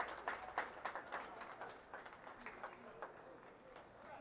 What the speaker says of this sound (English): And the crowd cheers.